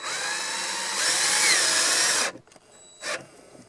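A power drill drives screws through a caravan wall, with a loud, steady whirring run that climbs in intensity before cutting off abruptly, followed by a brief second burst nearby.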